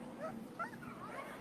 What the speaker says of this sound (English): Look at the puppy.